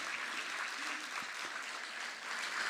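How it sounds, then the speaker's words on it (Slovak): Audience at a folklore evening with a folk music band in Spišské Vlachy claps steadily, even applause at moderate distance, continuous throughout. "Patrí im potlesk."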